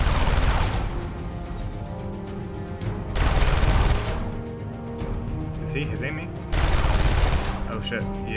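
Heavy video-game gunfire in a Batman game, with three loud, dense bursts of shots separated by steadier rumbling volleys. A player's voice talks over the shooting.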